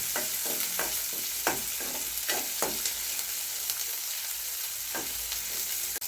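Sambar onions and green chillies sauté in a pan, a loud, continuous close sizzle with repeated scraping strokes of a stirring spoon.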